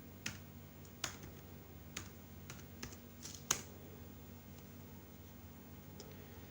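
Keystrokes on a computer keyboard as a captcha is typed in, a handful of separate sharp clicks spaced irregularly over the first few seconds, close and fairly quiet against a soft background hum, with no talking.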